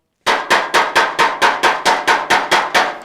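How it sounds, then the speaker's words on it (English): A Bullseye Pick strikes a 1956 Chevy fender in body repair, twelve sharp metallic taps in an even quick rhythm, loud and close with nothing else heard. "So I'm just striking with the Bullseye Pick, pushing down."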